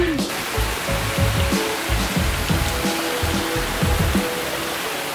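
Steady rain hiss fills the background while low, indistinct voices murmur underneath throughout.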